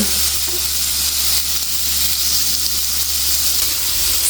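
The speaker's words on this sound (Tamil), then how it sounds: "நாங்கள் அந்த சீஸுக்கு மேலே தூவி விடுறது பாருங்க எப்படி பொரியுதுண்டு. இது கிரில் ஆகிக்கொண்டிருக்கு." Cheese grilling and melting on a hot surface in a Swiss winter setting, giving a steady, close sizzle and hiss with a low hum underneath.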